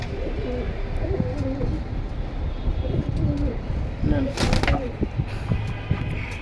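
Red-pied military pigeons at a pigeon sale in Kalindi, Keraniganj, Dhaka coo repeatedly in soft, rolling phrases close by, mixed with brief chirps while people talk over them.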